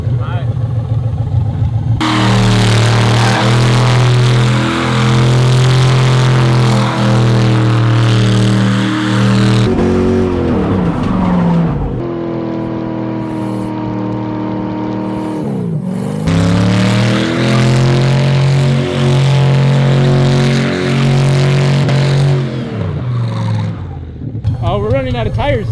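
A Datsun car revs hard and accelerates in second gear with its tires spinning, the loud engine note rising and falling through several long pulls, with people talking over it.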